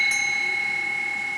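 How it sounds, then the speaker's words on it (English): A small tea bell chimes once, a clear sustained ringing tone that slowly decays, heard alone. "It's a little bell here, and it's designed as a tea bell."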